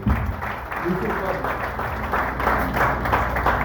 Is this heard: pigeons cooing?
no